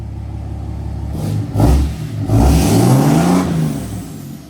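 A 2022 Dodge Charger Widebody Hellcat engine revs loudly twice, rising and falling in a throaty burst, close by and without talk.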